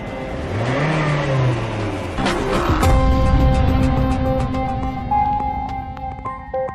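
A Honda City car engine cranks and catches, a rising whir giving way to a steady running hum nearby, with some light clicks along the way.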